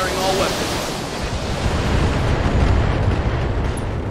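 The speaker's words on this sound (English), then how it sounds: "Firing all weapons." A mech in the video game Battletech unleashes a full weapons volley, a continuous roaring wash of blasts and rumbling explosions, loud and sustained throughout.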